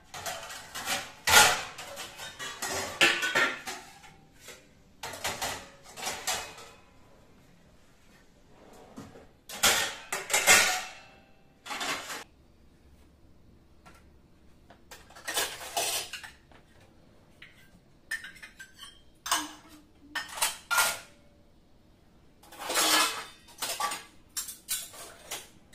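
Dishes and utensils clatter and clink in a home kitchen, in repeated bursts of handling with short quiet gaps between them, close and fairly loud.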